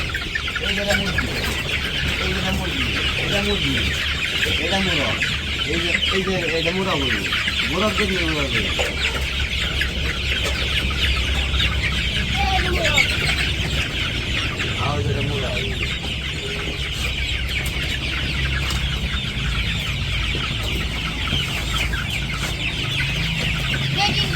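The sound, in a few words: Sonali chickens clucking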